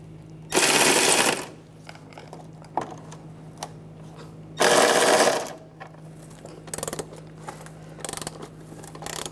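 Ratcheting clicks from a 10mm socket wrench come in two long, loud, dense bursts, followed by shorter scattered clicks, while bolts are removed from the air deflector of a 1996-2002 Toyota 4Runner.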